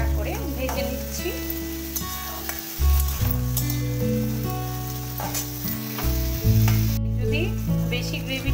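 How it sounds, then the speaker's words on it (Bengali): Mixed vegetables with soy sauce sizzle and fry steadily in a pan for chilli paneer, a close, continuous hiss with stirring scrapes under background music. "এবার সমস্ত সবজিগুলো দিয়ে দিলাম। একটু ভালো করে হালকা করে ভেজে নিচ্ছি।"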